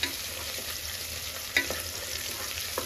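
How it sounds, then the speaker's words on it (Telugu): Onions fry in a pan with a steady, moderate sizzle, broken by a few soft stirring clicks and scrapes, with no talking. "కొంచెం బాగా వేగాలి ఉల్లిపాయలు"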